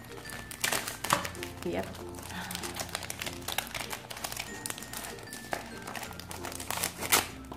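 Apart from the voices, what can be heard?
cutting open sticker packaging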